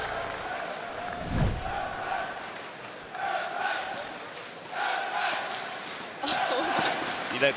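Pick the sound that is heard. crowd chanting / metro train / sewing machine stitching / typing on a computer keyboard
crowd chanting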